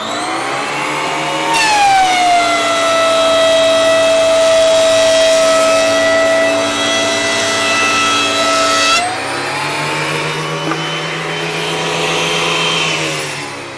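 A thickness planer takes a deep pass on a cedar board, its motor whining loud and close; the pitch drops as the wood feeds through, then rises again as the board clears and the machine keeps spinning.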